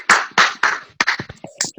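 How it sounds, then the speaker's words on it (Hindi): A short burst of hand clapping, a few sharp claps in quick succession, close and crisp. "तो सब लोग तालियों के साथ स्वागत करेंगे।"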